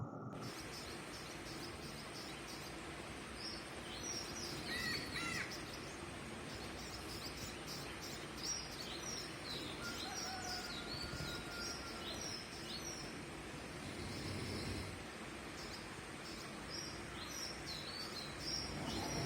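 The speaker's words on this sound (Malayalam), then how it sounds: "രാവിലെ എണീച്ചിട്ട് നമുക്ക് കിളിക്കൊഞ്ചലൊക്കെ കേട്ടാലോ?" Birds chirping in the morning outdoors, faint scattered tweets and calls over a broad, steady background of outdoor noise, with no talking.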